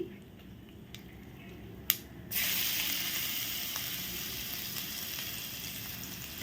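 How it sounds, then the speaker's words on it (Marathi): A ginger, garlic and green chili paste goes into hot oil tempering: after a quiet stretch and a sharp click, a loud sizzle bursts up and holds steadily, close to the pan, with no talk. "ही मी आलं लसूण आणि मिरचीची पेस्ट केले आहे ही मी आता फोडणीमध्ये घालते"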